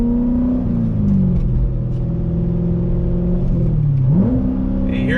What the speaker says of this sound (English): That's that auto rev match feature.